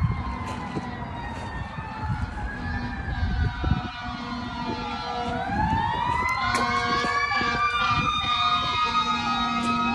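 Wailing police car siren rising and falling repeatedly, fairly close, over steady traffic rumble; a second siren tone overlaps in the latter half.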